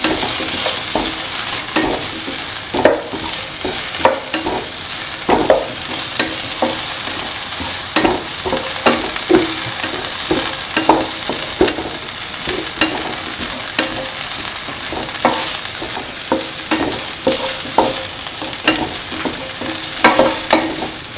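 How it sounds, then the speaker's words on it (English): Bitter gourd sautés in a pan for a tamarind stew, with a loud continuous sizzle broken by frequent scraping stirs of a spoon against the pan, close up and without speech. "Keep on sauteing."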